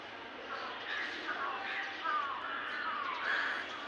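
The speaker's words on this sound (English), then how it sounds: "No, those are crows," Crows caw several times, fairly distant and faint, mixed with other bird calls outdoors where eagles are also present.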